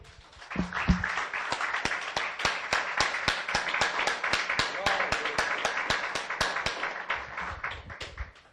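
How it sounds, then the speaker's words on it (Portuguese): Congregation in a church gives a rhythmic, unison round of clapping for God, steady beats repeating about three per second for several seconds, with a voice briefly heard near the start. "Vamos dar uma salva de palmas para Ele?"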